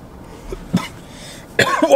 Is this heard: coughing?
yes